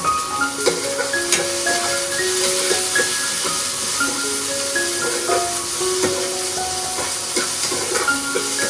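Onion frying in a pan while making pasta, a loud steady hiss and sizzle with scattered crackles and stirring clinks, close up, with no talk.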